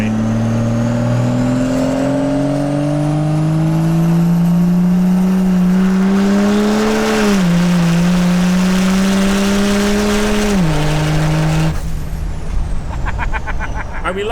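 A 1000HP Cummins diesel truck with hood stacks and a turbo revs hard and close, its pitch climbing in long sweeps and dipping twice, with a high turbo whistle riding on top before a sharp air release near the end.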